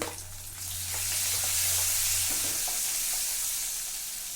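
Chopped ginger, garlic and a chilli hitting hot oil in a pan while cooking moong bean curry, giving a loud broadband sizzle that swells after the first half second and holds steady.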